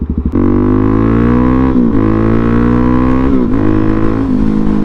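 A Suzuki DRZ400SM motorcycle accelerates hard, its loud, close single-cylinder engine revving up through several gear changes, each marked by a short dip in pitch before climbing again.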